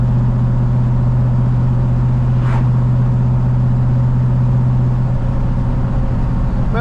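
Cammed 450HP G35 car cruising at night, a constant loud interior drone of engine and road with a steady low hum, unbroken throughout.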